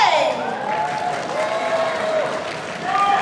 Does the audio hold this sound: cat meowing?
no